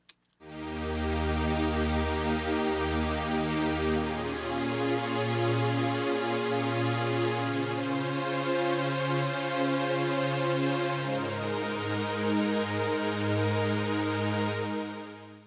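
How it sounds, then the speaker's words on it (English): A sustained synth pad with a slow-attack envelope swells in slowly, holding layered chords that shift pitch a few times before fading at the end, with no voices. "With these settings, the dynamic envelope now sounds like this."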